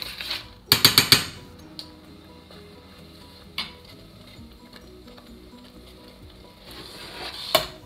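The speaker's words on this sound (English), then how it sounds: "Give it a couple of stirs just so it doesn't stick to the bottom and burn" Oatmeal in a pot on the stove, stirred with a spoon against the bottom, giving a soft continuous sizzle, with a cluster of sharp scraping clatters near the start and a few isolated clicks afterward.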